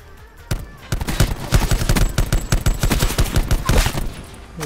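Rapid automatic gunfire from the Call of Duty Black Ops 4 Blackout battle royale mode rattles in a long, loud, close burst of dense shots after a brief quiet start.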